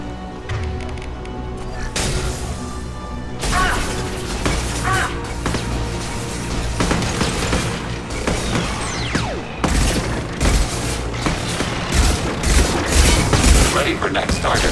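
Repeated gunfire bursts from a turret in Mass Effect 2, with loud booming shots and crackling impacts over a dense, steady combat bed of effects and music, with game voices talking in the mix.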